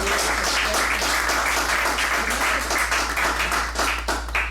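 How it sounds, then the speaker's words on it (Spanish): A church congregation claps together for the Lord during a Spanish-language worship service, many hands in a loud, continuous burst with a low hum running underneath and no talking on top. "Damos un aplauso al Señor."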